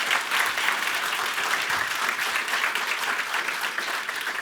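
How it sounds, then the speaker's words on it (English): An audience at a talk on Web3 applauds the speaker Alexander, with sustained, dense clapping at a steady, fairly loud level throughout. "can we give another round of applause to Alexander?"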